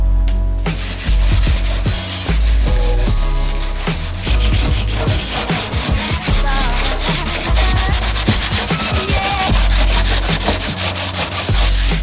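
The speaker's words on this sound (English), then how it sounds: "I'm gonna go ahead and sand this down and then put some Bondo over this" Steady, loud hand sanding of Bondo body filler on a Genesis Coupe panel, a continuous close scraping rasp with quick rhythmic strokes and no talking.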